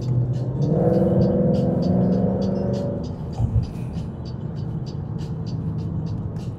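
A wide-body Ford GT Mustang's engine swells and revs loudly on a downshift, then settles into a steady, rumbling drone with faint ticking under it, heard close from inside the car.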